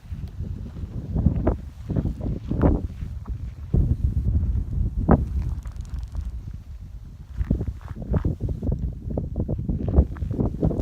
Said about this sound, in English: Wind's blowing up here, so it probably sounds terrible